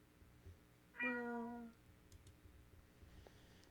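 A cat in the video game Do Not Take the Cat Home gives a single drawn-out, falling meow that lasts under a second, clear over quiet background hum and faint game clicks.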